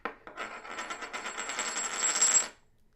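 1923 San Francisco silver Peace dollar ringing after being struck or spun, a close, bright metallic shimmer that sustains and wavers for about two and a half seconds before cutting off abruptly, heard alone without talk.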